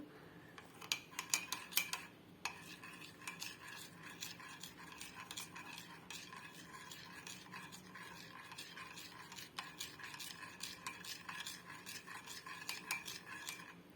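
Coffee being mixed in a large cup, quick rhythmic clinking and scraping of a spoon against the sides, fairly faint but continuous, with no voices.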